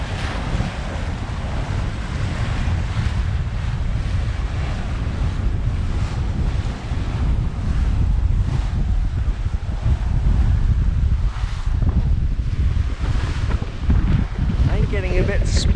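Waves splash against an HR54 sailing yacht beating upwind off the Exuma islands, Bahamas. Continuous loud wind buffeting and rushing water fill the whole stretch, with close splashes rising and falling.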